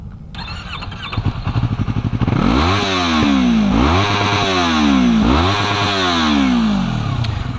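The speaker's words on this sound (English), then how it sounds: "That's the Tiger exhaust" Yamaha R3 motorcycle fitted with a Tiger aftermarket exhaust, a close, loud engine that starts with rapid clatter, then revs up and down in three or four swelling pulls before holding a steady rumble, with no talking.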